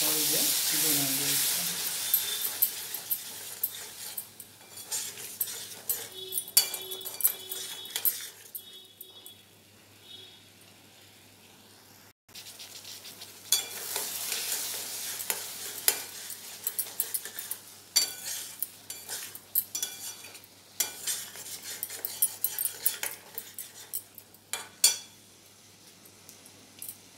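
Tomato and cashew paste frying in a pan for a mixed vegetable curry, a steady soft sizzle with occasional stirring scrapes and utensil clinks, fairly close, with a brief quiet break midway.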